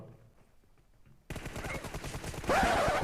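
Gunfire in the mobile battle royale game PUBG Mobile during a 2 vs 2 match: after a quiet start, loud rapid automatic bursts begin abruptly and grow denser and heavier toward the end.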